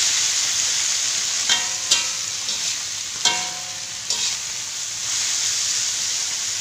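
Kailan greens stir-fried in a hot pan give a steady close sizzle, with several sharp clanks and scrapes of a spatula stirring through the vegetables at irregular intervals.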